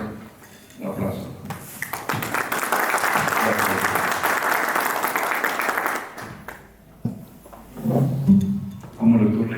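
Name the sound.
audience applause for a speaker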